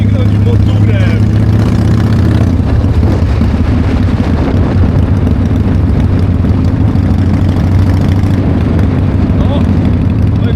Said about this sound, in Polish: A to są głośne wydechy, macie, żeby było słychać.